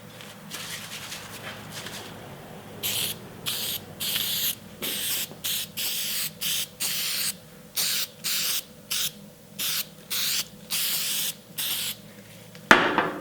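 A series of short, sharp aerosol bursts of spray adhesive in a steady rhythm, each hiss about half a second long, close by with a quiet background hum.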